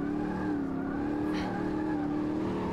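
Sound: car drifting with handbrake in Automobilista 2 racing video game

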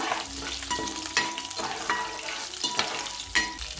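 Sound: garlic and cumin stirred while frying

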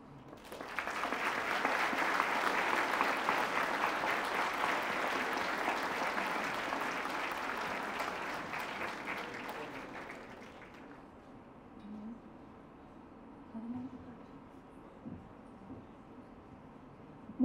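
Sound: audience applause at conference

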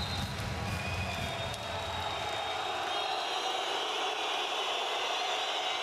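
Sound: handball arena crowd cheering

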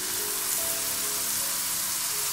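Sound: tomato puree sizzling in pan

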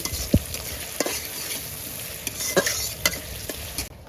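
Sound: onions frying in oil for haleem

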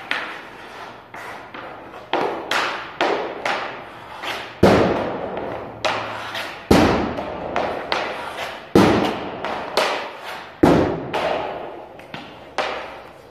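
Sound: wrist shots with composite hockey stick hitting puck

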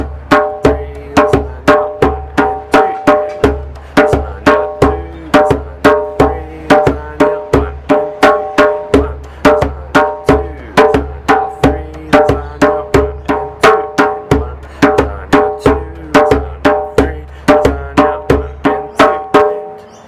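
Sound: djembe playing chorus rhythm pattern

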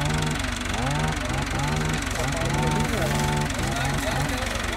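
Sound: tractor engine idling at coffee machinery demo

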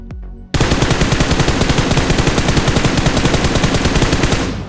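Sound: automatic rifle spray fire with 4x scope in shooter video game

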